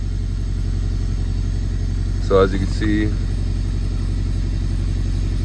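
A 1995 Honda Civic idles high at around 1,400 RPM, giving a steady low engine drone throughout with a faint fan hum, while someone talks briefly over it.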